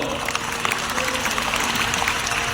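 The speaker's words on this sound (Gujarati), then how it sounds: "એક વખત જોરદાર તાળીઓથી વધાવો" An audience gives loud, dense applause at a devotional Devi celebration, sustained clapping from many hands without a break.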